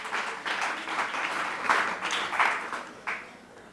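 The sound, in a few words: audience applauding Zénaba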